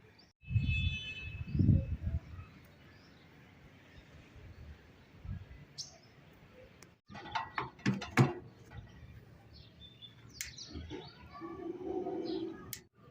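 A hand-cranked blower fan on a wood-fired stove whirs and ratchets in bursts, with mechanical clicking and rattling, interrupted by quieter pauses; a faint low voice appears early.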